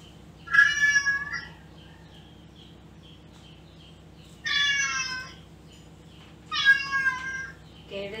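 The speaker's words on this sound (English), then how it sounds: "that's a cat." A cat meows three times, with drawn-out, wavering cries separated by quiet pauses, close and clear over a faint background hum.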